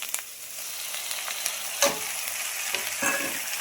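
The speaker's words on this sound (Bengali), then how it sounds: "এগুলোকে ভালো করে ভেজে নেব। দেখো এই সর্ষেটা ভাজা হয়ে গিয়েছে" Mustard and green chili paste fries with a steady close sizzle in a pan, broken by a few sharp scrapes and taps of a stirring utensil.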